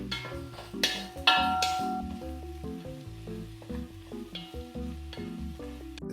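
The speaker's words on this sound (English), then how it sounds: "we're just going to saute until the onions get translucent" Shallot sautéing in a pan for chicken fricassee, giving a steady soft sizzle that runs through the clip beneath tonal background music, with a couple of louder bursts early on.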